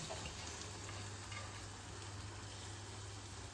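Small dried fish frying with finely chopped onions and curry leaves in a pan, a steady dense sizzle with a low continuous hum running throughout, fairly close and unbroken.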